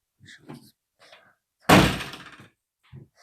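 A door swings shut with a single loud, close thunk that decays over about a second, with faint rustling and small movements before and after.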